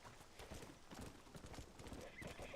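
Galloping horse hooves in the Red Dead Redemption video game, a steady rapid clip-clop rhythm over a dense, loud outdoor game soundscape.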